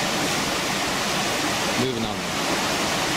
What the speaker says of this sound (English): The sound of the river rushing through in the background